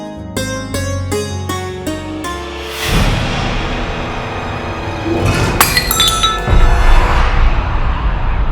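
Glass breaks and shatters in a domestic drama scene, a sharp crash of shards followed by scattering tinkles and clinks, loud and up close, with no talk over it.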